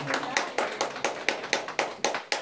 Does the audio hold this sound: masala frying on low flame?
no